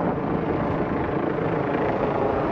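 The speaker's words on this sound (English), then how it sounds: "It's just a police helicopter." A steady low rumbling drone of a police helicopter overhead, continuous and fairly loud, with no voices.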